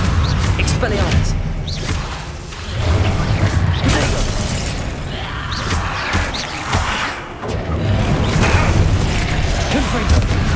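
Repeated Confringo blasting-spell explosions in the Hogwarts Legacy video game, a dense run of booming bursts, whooshes and clattering debris under continuous loud game noise, with a voice speaking over the action.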